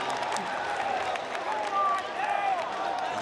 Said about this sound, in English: The crowd lost it there.